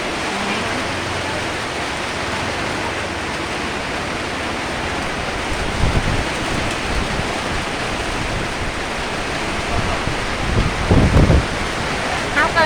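Heavy rain pours down in a steady, dense hiss that fills the whole stretch without pause, with a few louder thumps and bits of nearby activity breaking through in places.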